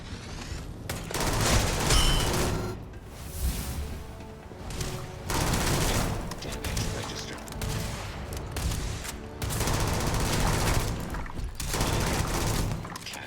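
Bursts of weapon gunfire in Starfield, rapid repeated shots in dense volleys broken by short pauses, loud and close.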